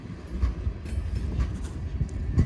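A passing NECR freight train rumbles nearby, with a steady low roar and rhythmic clacks of railcar wheels over rail joints continuing throughout.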